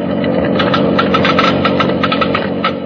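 An engine runs loud and close with a steady, rough idle and a rapid knocking rhythm throughout.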